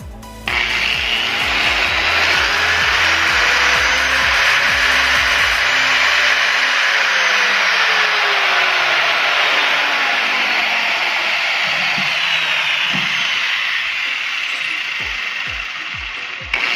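An angle grinder runs through a DIY speed-controller board, giving a steady whirring, grinding drone that holds for most of the stretch. Its loudness rises and falls only slightly, with a few clicks at the start and end.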